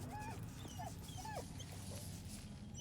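A dog whimpers in Baldur's Gate 3 with a few short, faint high whines and yips over a steady low game-ambience hum, no talking.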